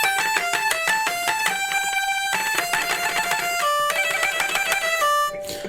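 A single bowed hurdy-gurdy string plays a quick run of melody notes, loud and sustained, with bright buzzing overtones, alone and ending abruptly.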